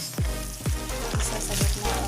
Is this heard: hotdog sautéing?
yes